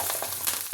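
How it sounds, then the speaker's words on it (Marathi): Thin potato chips frying in hot oil, a short burst of steady, crackling sizzle that is close and fairly loud. "आता तेलामध्ये चिप्स टाकून घेऊया."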